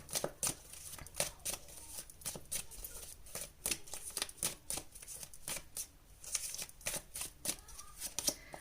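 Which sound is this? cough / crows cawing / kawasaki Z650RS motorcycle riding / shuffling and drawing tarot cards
shuffling and drawing tarot cards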